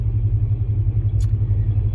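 A car engine running on LPG gas rumbles steadily and low at close range, a continuous idle-like drone with a brief faint high chirp partway through.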